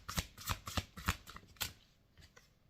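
A deck of cards being shuffled close by in a quiet room, a rapid series of crisp riffling flutters that tapers off into a few softer taps.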